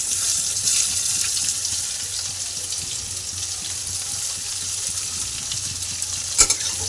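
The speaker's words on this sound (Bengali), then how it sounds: "এবার পেঁয়াজটা একটু লাল লাল করে আমার ভেজে নিতে হবে।" Onions sizzle steadily in a hot pan with occasional stirring scrapes, a soft continuous frying hiss up close.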